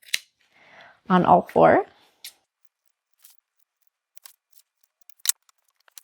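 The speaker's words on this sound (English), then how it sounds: "So you can trim it across, not through the stitches, but super close." Sewing scissors make a few faint, sparse snips while trimming the fabric corners of a tote bag, following a brief stretch of talk.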